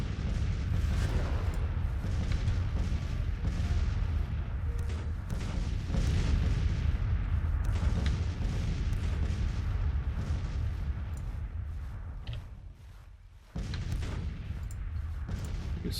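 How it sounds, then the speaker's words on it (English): Rolling artillery bombardment in the Civil War strategy game Grand Tactician, dense overlapping booms and distant cannon fire forming a continuous rumble, briefly dipping near the end before resuming. "we'll wait with bombardment until the enemy is kinda squeezed in, and then we're gonna go and bombard"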